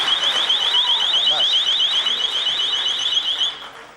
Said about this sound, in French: L'alarme de vélo.